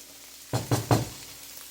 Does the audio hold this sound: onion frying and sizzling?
yes